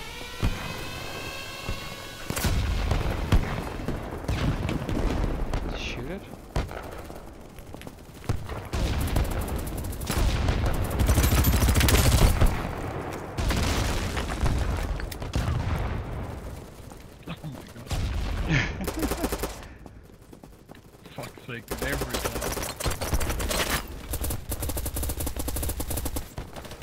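Gunfire in BattleBit Remastered during a night match, with bursts and rapid volleys that rise and fall across the scene and stop briefly partway through, mixed with game ambience and occasional voices.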